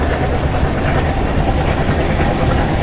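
Continuous loud rumble of a train running on the Indian Central Railway route in the PC game Train Simulator Classic, steady wheel-on-rail roar with light clacking and a thin high whine, alone without talk.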